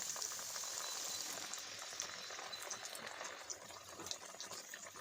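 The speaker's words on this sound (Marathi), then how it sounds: "मध्यम गॅसवर इथे आपण सगळ्या कोथिंबीर वड्या तळून घेणार आहोत" Coriander vadi deep-frying in oil over medium heat, a soft, steady bubbling crackle heard close but faint, fluctuating gently throughout without speech.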